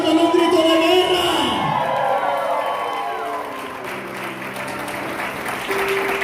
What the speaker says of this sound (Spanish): Den un aplauso al Señor con un grito de guerra